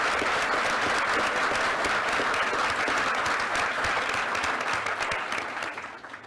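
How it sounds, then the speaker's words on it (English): Sustained applause from a large audience at a public talk on the opioid crisis, dense steady clapping that fills the whole stretch and tapers slightly near the end. "we should actually give a round of applause to all the people that are willing to speak publicly"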